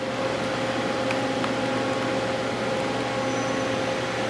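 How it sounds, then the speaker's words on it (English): A FANUC 21iT-controlled CNC machine's spindle running, a steady mechanical drone with a constant tonal whine, unbroken and fairly loud throughout. "We are going to start by running the spindle."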